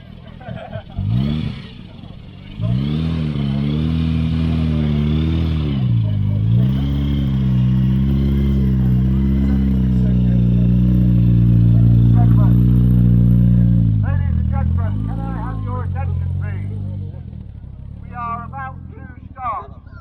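A Ford Cortina Mk3 classic car pulling away from a show, its engine loud and close with a steady low drone that rises and falls through the gears over about twenty seconds, with some clatter near the end.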